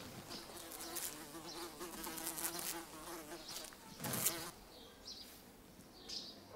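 A fly buzzes close by in steady, wavering drones that swell and fade, with a louder pass near the end; no talking.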